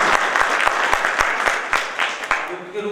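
Audience at a law college moot court clapping, a moderate round of applause with distinct individual claps in an uneven rhythm, fairly close, fading slightly at the end.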